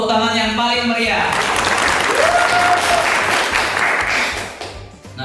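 Loud, dense applause from a live audience at an MC event in Surabaya, sustained clapping with voices and cheering mixed in, fading slightly near the end.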